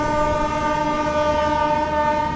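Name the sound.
Goa Sampark Kranti Express train running past Bhuteshwar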